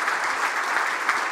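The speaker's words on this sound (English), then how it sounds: "let's give a round of applause" Conference audience clapping at an investment forum session on inclusive ESG in emerging markets in London, a dense, steady round of applause throughout with no voices over it.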